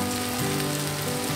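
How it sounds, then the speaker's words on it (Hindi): Okra tumbles into a pan of frying sliced onion and chilli, a steady close sizzle with brief shifts in tone as the vegetables land, no voices. "ये मेरा फ्राई हो चुका है तो इसमें मैं भिंडी डाल दूंगी"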